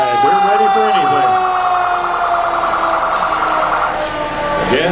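Raywick fire truck with a side ladder sounds its wailing siren during a downtown Christmas parade in Lebanon, loud and close, with a rising-falling tone held steadily throughout over faint crowd noise.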